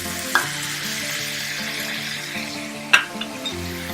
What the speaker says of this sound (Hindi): थोड़ा सा हम पका लेंगे क्योंकि हमने सूरख मिर्च पाउडर डाला है